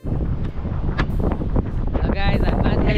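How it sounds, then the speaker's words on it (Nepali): Strong wind at Floreat Beach buffets the microphone in loud, rumbling gusts, with a voice briefly heard under the roar. "डेन्जर हावा आइरहेछ, डेन्जर उयो छ।"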